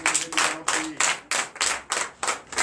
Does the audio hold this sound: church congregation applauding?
yes